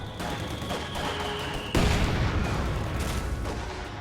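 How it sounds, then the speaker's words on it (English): A heavy mortar fires in the Company of Heroes 2 battle, with scattered distant gunfire followed by a sudden loud boom and rumbling aftermath, no voices. "Oh, is that a heavy mortar?"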